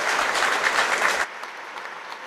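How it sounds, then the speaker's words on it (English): A crowd at a World 4-Wall men's open handball final gives a standing ovation, with dense, loud applause for just over a second before it drops away to quiet room ambience. "He gets a standing ovation from the clear crowd."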